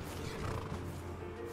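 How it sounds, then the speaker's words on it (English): A horse neighs in Skyrim, a long whinny lasting throughout over steady, dense game background sound. "Okay, pull out the horse."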